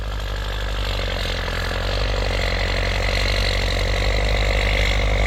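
The turbocharged engine of a 7610 vehicle runs loudly and steadily nearby, giving a constant throbbing drone with no change in pace.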